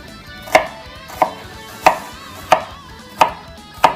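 A knife chops through half an onion on a cutting board with six sharp, evenly spaced strikes. The chops are close and distinct, and there is no talk.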